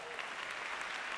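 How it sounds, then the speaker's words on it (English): Audience applause at a live awards show, steady dense clapping from a large crowd heard throughout the short moment without any voices over it. "Yeah, you can clap."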